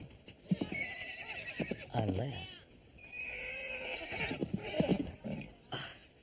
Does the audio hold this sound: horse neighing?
yes